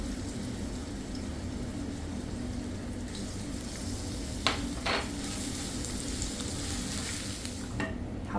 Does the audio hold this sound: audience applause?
no